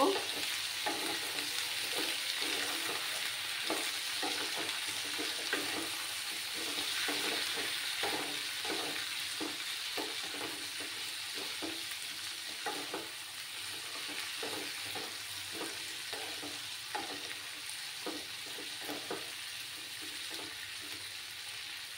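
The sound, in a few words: stir-frying with turmeric powder in a pan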